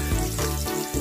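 Garlic sizzles loudly in a hot pan while cooking sisig na puso ng saging, a dense steady crackle close up with no voices.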